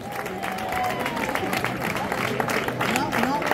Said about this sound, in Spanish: Fuerte aplauso, no hace falta que yo lo pida, para la primera de Benagalbón